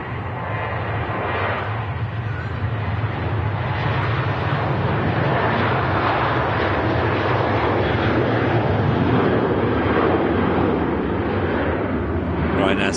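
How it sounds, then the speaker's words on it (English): Ryanair Boeing 737-800 rotating on takeoff at Manchester Airport, a loud, continuous jet roar with deep low rumble that stays strong from start to finish, voices talking beneath. "Ryanair 737-800 rotating there"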